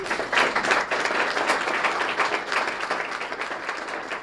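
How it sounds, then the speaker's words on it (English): Audience applause at a school Student of the Month ceremony, steady dense clapping from a room full of people, sustained and fairly close throughout without speech. "So let's give all of them a great round of applause."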